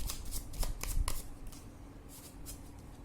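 Tarot cards are shuffled by hand in several quick riffling bursts, close and crisp at first, then a couple of softer flutters after a brief pause.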